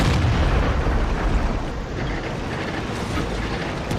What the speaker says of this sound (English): this boy of a KV-2 is already taking shots at my Cromwell